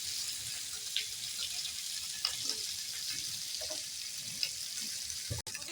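Tikka pieces fry in a small amount of oil, giving a steady, quiet broadband sizzle with a few soft crackles and a brief clink near the end.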